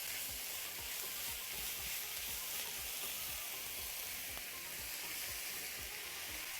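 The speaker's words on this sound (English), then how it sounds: "now we saute the meat and the aromas coming out are amazing" Minced meat sautés in a pan for an eggplant and meat bake, giving a steady, loud sizzle throughout with soft scraping stir strokes at a regular rhythm underneath.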